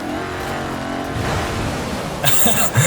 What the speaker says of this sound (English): Oh, yeah, that was a sick drift, I bet.